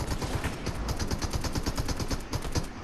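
Rapid bursts of automatic gunfire in a Fortnite battle, a steady stream of sharp shots hammering without pause across the whole stretch, close and loud.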